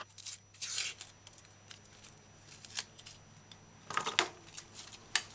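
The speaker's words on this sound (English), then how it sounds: "Peel onion, remove just the brown leaf." A brown outer layer is peeled off an onion with scattered, crisp tearing and crackling, a few louder rips among soft rustles, close and quiet with no talk.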